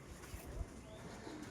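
A pigeon coos softly in a low, faint murmur with a couple of gentle throaty calls, heard at a quiet distance amid light background noise.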